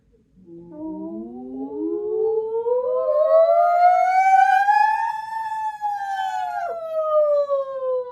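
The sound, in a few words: voice imitating a siren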